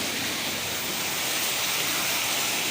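Dense, steady rush of heavy rain pouring continuously, a broad hiss filling the whole stretch with no voices.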